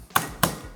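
Garlic is chopped on a board, with two sharp, close knife taps about a quarter second apart and nothing else around them.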